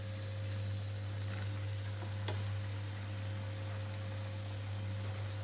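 Mutton liver hisses and sizzles as it fries in a hot pan for a masala. A steady, soft crackle runs throughout with a constant low hum underneath, and one or two faint clinks partway through. No voices are heard.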